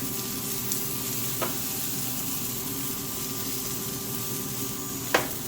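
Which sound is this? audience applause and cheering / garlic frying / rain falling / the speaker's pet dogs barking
garlic frying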